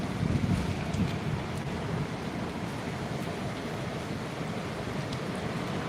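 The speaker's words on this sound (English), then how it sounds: "you can still hear the waves pounding on the shore" Ocean waves pound the shore in a continuous broadband rush, mixed with buffeting wind noise on the microphone and no talking.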